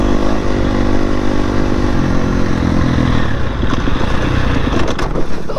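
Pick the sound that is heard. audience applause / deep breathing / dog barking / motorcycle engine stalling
motorcycle engine stalling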